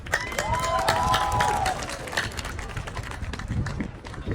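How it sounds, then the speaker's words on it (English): A crowd at a Manhattan Chinatown city advocacy day applauds the CPC team, with sustained clapping and cheering outdoors, a brief whistle-like tone early on, and voices mixed in. "please join me in giving a big round of applause to the extraordinary team"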